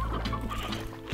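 Chickens in the video game Slime Rancher cluck and squawk busily, several short overlapping calls close up over a dense, noisy background, with no talk.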